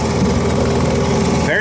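A running engine gives a steady, fairly loud mid-range hum that stays constant throughout, with no voices over it.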